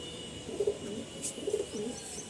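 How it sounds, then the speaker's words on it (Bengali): A Shakdum-tailed pigeon in a home loft gives two soft, low coos about a second apart, faint against a quiet background. "একদম শাকদুম লেজের পায়রা, খুব ভালো পায়রা, কোয়ালিটিও ভালো।"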